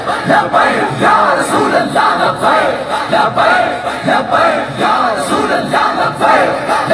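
A large crowd at a Tehreek-e-Labbaik rally at Minar-e-Pakistan chants the Labbaik slogan in loud, rhythmic, rolling surges that fill the whole span.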